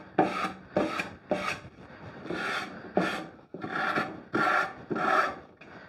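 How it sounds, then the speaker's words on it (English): A rough, rasping sanding pad scrubs back and forth along wallpaper edges on an antique vanity in about eight steady strokes, close and fairly loud, with no talking. "sanding pad and just run it across."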